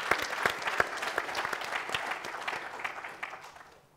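A crowd claps steadily for a few seconds, dense applause that gradually thins and fades toward the end.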